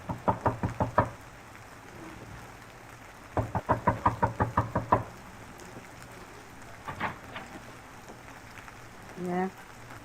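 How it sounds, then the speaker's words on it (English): Knocking on a door as a radio drama sound effect: a quick burst of about six raps, a pause, then a longer run of about nine raps, followed by brief muffled sounds and a short voice. "Knock."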